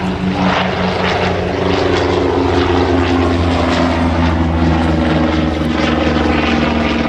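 A Grumman Bearcat piston fighter drones loudly at the Flying Legends airshow at Duxford, its propeller engine giving a steady, throbbing roar that holds throughout, with no voices.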